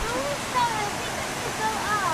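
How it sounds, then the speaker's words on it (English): A river flowing below a path in Ubud, Bali, heard as a steady, broad rushing wash of water, loud and continuous, with faint higher chirps over it. "And there's a nice little river down there."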